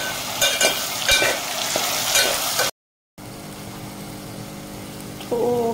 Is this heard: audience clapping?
no